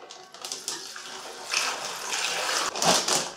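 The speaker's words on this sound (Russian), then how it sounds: "я добавлю прямо сюда воды" Water poured into a plastic bag of barrel-style pickled tomatoes, a close, steady splashing gush that swells louder toward the end.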